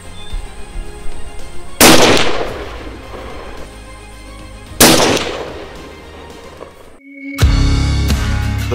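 Rifle shots during a stag hunt in New Zealand, test-fired at a 100 range target outdoors: two loud, sharp cracks a few seconds apart, each trailing off in a long echoing decay, followed by a burst of rustling noise.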